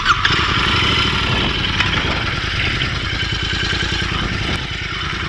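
A Royal Enfield motorcycle engine runs loud and close throughout, a steady thumping single-cylinder rumble with mechanical clatter that holds level, as if starting and moving off on rural Lincolnshire lanes.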